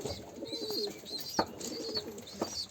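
Arab pigeons cooing in soft repeated low coos over a constant background hum, with an occasional faint chirp.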